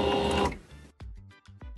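A sewing machine stitches a quarter-inch seam through two layers of scrap fabric, giving a dense, steady mechanical whir for about half a second before it stops and quieter, irregular sounds follow.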